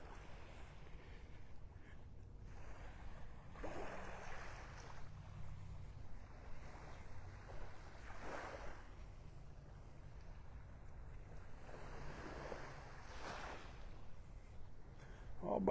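Gentle surf washing ashore on the beach at Delnor-Wiggins in North Naples. Faint, distant swells rise and fall under steady wind buffeting, with occasional soft voice sounds.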